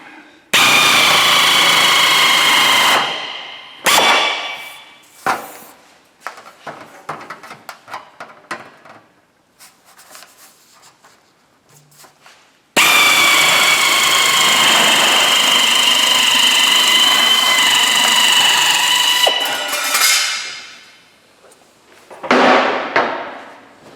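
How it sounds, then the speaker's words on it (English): A power tool rough-cuts sheet metal for a weld repair, giving two long, loud, high-pitched cutting whines separated by a stretch of quieter clatter and handling noise, close to the recorder. "So I'm going to rough out cut that, so I'm going to cut it slightly big"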